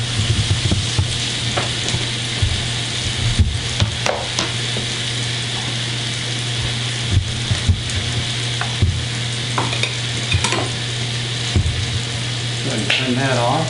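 Fish frying in a pan for fish tacos, a steady close sizzle and crackle with occasional stirring clicks and scrapes, continuous throughout with no talking.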